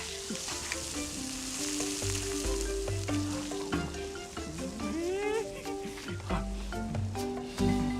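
Grilled fish topped with cheese sizzling and frying in a video game, a continuous crackling hiss layered with shifting tonal game sounds and music-like notes throughout.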